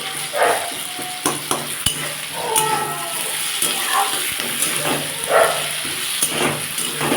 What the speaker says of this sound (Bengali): ভালো করে আলুটা ভেজে নিই দেখুন বন্ধুরা আমার আলুটা ভাজা হয়ে গেছে